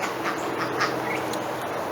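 Ducks quacking near a new enclosure being built for them, currently housed in a sheet metal shed; several short, scattered calls over a steady outdoor background, moderately close.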